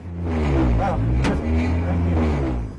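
A manual-transmission car drives with a steady, loud low engine drone and rising rev tones, and a brief sharp transient near the middle.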